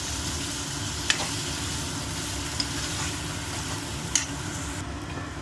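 Tomatoes hit a hot frying pan for egg curry, giving a steady, even sizzle that runs the whole time, broken by a few sharp utensil clicks.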